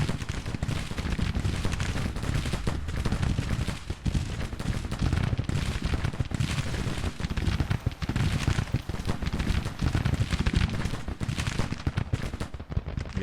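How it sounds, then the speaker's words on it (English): Musket volleys crackle and roar continuously in a Civil War battle video game, dense overlapping gunfire like heavy rain, loud and steady throughout with no speech. "Now they're firing on us."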